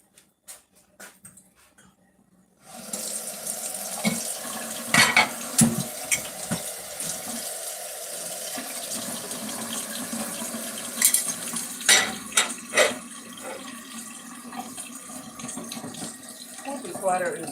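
Hot water from a kitchen tap runs steadily into a sink, starting abruptly after a few quiet seconds with knocks and clatter of dishes as potatoes are handled, close and fairly loud.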